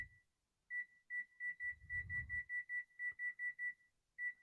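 A kitchen timer being set beeps in a rapid run of short, high, clear tones, about a dozen evenly spaced beeps close by, with a faint low rumble underneath and no talking.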